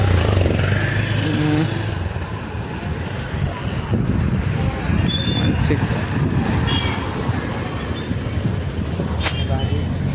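A motorbike riding along a road, a steady engine drone buried under strong wind buffeting on the microphone, continuous and loud, with people talking over it.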